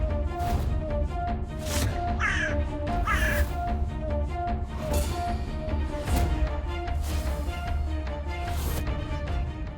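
A crow caws repeatedly against a busy background of music and ambient sound, its harsh calls rising above at irregular intervals.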